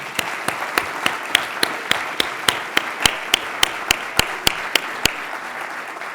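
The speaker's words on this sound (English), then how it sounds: "I ask that you join me, even in absentia, for a round of applause for Walter Shorenstein." Claps ring out at an awards ceremony in a steady, evenly spaced beat, each one sharp and distinct over a faint hum of the room, with no talking.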